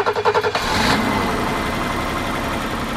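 A BMW E30's M20 engine cranks with a rhythmic starter whir, then catches and settles into a steady, loud idle, recorded close by after five years of sitting.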